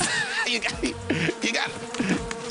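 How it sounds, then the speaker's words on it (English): Live bees buzzing close by, a dense fluctuating insect drone with wing hum swelling and fading as they move around, loud and near, with a brief voice underneath. "So now let's see my stunt double with a bunch of live bees"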